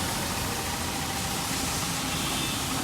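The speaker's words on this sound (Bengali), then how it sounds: "ইঞ্জিনটি স্টার্টে আছে" A car engine idles steadily and smoothly after an engine and gearbox replacement, a constant low rumble with a broad hiss, no revving and no voices.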